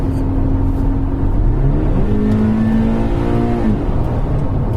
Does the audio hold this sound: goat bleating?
no